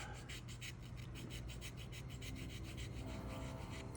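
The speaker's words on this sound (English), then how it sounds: "use a file to get rid of some of this Tamiya putty" Hand file rasping Tamiya putty off a plastic model kit, a quiet rhythmic back-and-forth scraping of about a dozen even strokes, close and alone.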